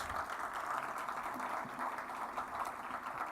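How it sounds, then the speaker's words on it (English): Crowd applause at a groundbreaking ceremony for a Boys & Girls Club clubhouse, a steady wash of many hands clapping at moderate distance, sustained evenly through the whole stretch with faint voices mixed in. "Please give everyone a round of applause."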